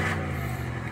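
Car engine at idle right after starting, a steady low mechanical hum with a faint rev near the start, close and continuous for under a second with no talk.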